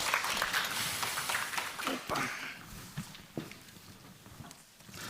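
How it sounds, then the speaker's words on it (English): Audience applause greets panelists walking onto a conference stage, dense broadband clapping that swells loud at first and then thins out over several seconds, with scattered louder claps and some voices mixed in. "Could we welcome to the stage with a round of applause our panelists, please, ladies and gentlemen?"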